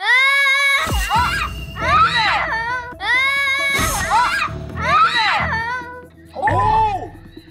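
A young child screams loudly and shrilly in repeated wailing bursts, close by and distressed, with short pauses between them and adult speech in the background.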